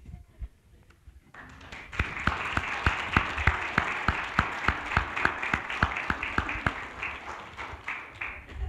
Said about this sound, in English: everybody stand up and clap